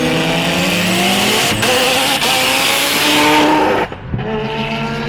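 A high-boost tuned car launches hard with its tires spinning and squealing as it loses traction, the engine revving loud and close before it abruptly cuts off.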